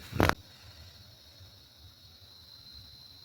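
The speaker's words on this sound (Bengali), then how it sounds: "ঝিঝি পোকার ডাক" Crickets in a forest in North Bengal produce a steady, faint, high insect drone that continues unbroken after a brief sharp knock at the start. No one speaks.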